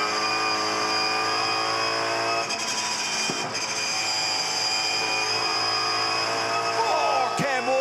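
A Supercars race car's engine screams steadily onboard over the mountain at Bathurst, loud and high-pitched with gear-change dips near the middle and end. A commentator talks over the engine.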